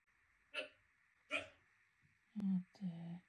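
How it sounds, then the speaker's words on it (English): A pet parrot makes short hiccup-like bursts indoors, with two brief sharp chirps followed by a pair of lower, throatier hiccup sounds, close and fairly quiet. "Have you got the hiccups?"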